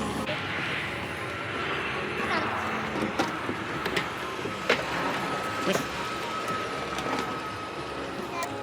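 An airplane taking off is heard from a distance as a steady engine roar, with occasional clicks and small knocks nearby.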